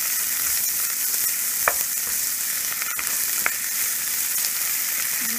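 Green chili, crushed ginger and garlic sizzle steadily in hot oil for chicken biryani, a constant bright hiss broken by a few sharp spoon clicks as they are stirred.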